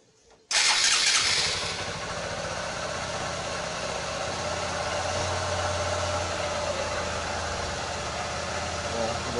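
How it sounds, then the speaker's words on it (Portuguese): A freshly reassembled Honda CG150 motorcycle engine, its spark plug just fitted, cranks and catches abruptly, then settles into a steady, close, loud idle with no talking. "E vamos dar a partida no motor."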